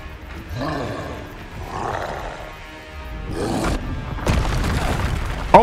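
A troll in the video game Hogwarts Legacy roars and hurls rocks, giving deep growling bellows followed by heavy crashing impacts.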